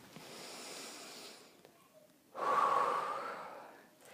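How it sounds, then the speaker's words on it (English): A single deep breath taken during a tapping exercise: a soft, faint breath that fades out, then a louder, rushing inhale close to the microphone, heard alone. "Okay, take a deep breath."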